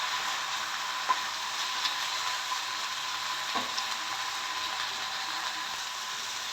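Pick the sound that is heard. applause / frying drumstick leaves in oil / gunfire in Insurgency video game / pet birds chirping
frying drumstick leaves in oil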